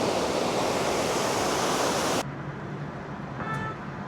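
A roadside waterfall on the Srinagar–Bandipora highway in Kashmir gives a loud, continuous broadband rush that abruptly drops to a quieter, distant roar halfway through, with a faint brief tone near the end.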